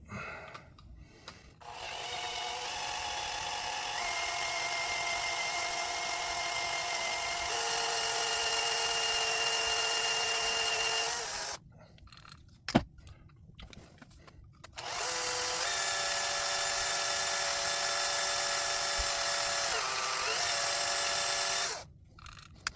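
A power tool bores a hole through the aluminum grip module of a Sig Sauer P320 AXG, sounding as two loud, steady high-pitched whirring runs separated by a brief pause with a sharp clack, heard close.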